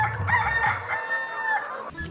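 Chickens on a small livestock farm, with a rooster crowing and hens clucking close by. The calls are loud and overlap in a dense run.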